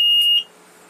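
A single sharp electronic beep from an IVECO truck dashboard as the ignition is switched on, high-pitched and steady for under half a second, then quiet cab background.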